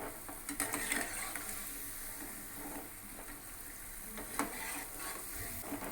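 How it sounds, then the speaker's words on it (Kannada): Gulab jamun balls deep-frying in hot oil, a steady soft bubbling sizzle running throughout with brief crackles, close and alone with no talk. "ಈಗ 3ನೇ ಟ್ರಿಪ್ಪಿನ ಜಾಮೂನು ಬೇಯ್ತಾ ಇದೆ."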